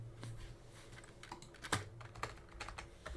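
Keys clatter on a computer keyboard in uneven bursts of fast typing, close and quiet, with small pauses between runs of taps.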